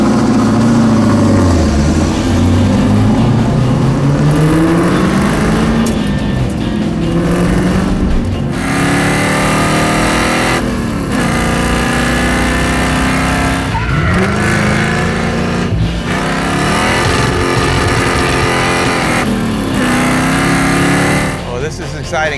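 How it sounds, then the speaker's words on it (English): A Pontiac Firebird race car on its first outing on a road course, engine roaring loud and close, pitch climbing and dropping through gear changes and corners, with brief tire squeal and a voice heard intermittently over it. "First time the Firebird has ever been on a road course."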